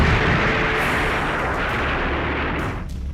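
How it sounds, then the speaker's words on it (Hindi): Firecrackers and stored gunpowder explode one after another in a dense, continuous roar of rumbling blasts that stays loud throughout and thins slightly at the end. "वीडियो में साफ साफ दिख रहा है कि किस तरह पटाखे और वहां रखे बारूद एक एक कर फट रहे हैं।"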